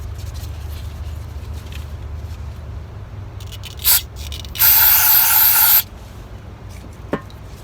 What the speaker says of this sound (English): Let's try some brake parts cleaner.